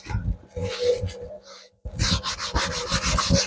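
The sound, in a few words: rubbing finish into a hardwood oak wall clock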